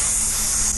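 A voice imitates a hot sizzle with a steady, hissing, spray-like sound, short and close, with no words.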